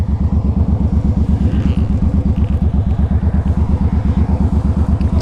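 A 2006 Suzuki Boulevard C50T cruiser motorcycle rides along with a steady, loud, throbbing engine beat, its rapid even pulses dominating throughout with faint wind noise above.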